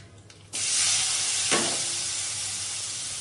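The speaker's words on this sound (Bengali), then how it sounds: "তরকারিটা বসিয়ে নেওয়ার জন্য ফোড়ন দিয়ে দিলাম তেজপাতা, কালো জিরে" Bay leaf and nigella seeds crackle into hot oil for a tempering, a sudden loud broadband sizzle that flares at once, spits again briefly, then settles into a steady hiss with no talking.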